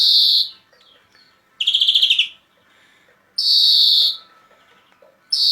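A greenfinch sings close by in bright, high bursts of twittering trills, separated by short quiet gaps.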